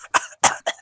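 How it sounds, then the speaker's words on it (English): A man coughs and chokes in three sharp, harsh bursts close to the microphone, each one rough and throaty, with short gaps of near silence between them. "I made him choke. Made him cough."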